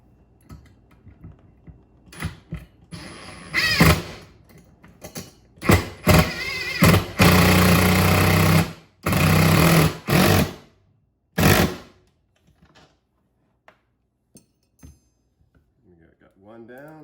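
Power driver running screws into a Minn Kota trolling motor base plate with a number 3 bit, several short whirring bursts of varying length, fairly close and loud, with a voice talking in between.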